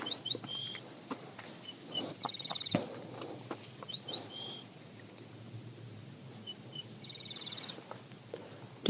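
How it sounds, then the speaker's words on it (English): Birds chirp in short, bright bursts, a scattering of tweets near and far over a quiet room background with brief clicks and no speech. "Those birds are lovely."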